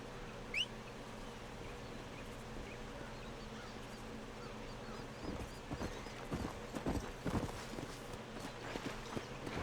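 Horse hooves clip-clop in Red Dead Redemption, a soft, fairly quiet walking rhythm that grows busier and more distinct over the last few seconds.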